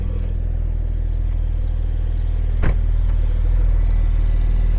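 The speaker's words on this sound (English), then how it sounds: "Just giving it a few little revs." Porsche Carrera S with aero kit and sport exhaust idling with a deep steady rumble, with a single quick blip of revs partway through, heard close from the car.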